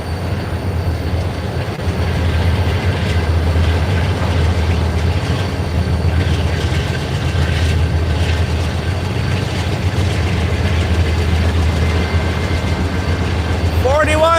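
CP Heritage 7015 freight train rolls past with its AC44C6M DPU locomotive, a loud continuous rumble of wheels and cars sustained throughout, a brief wheel squeal rising near the end.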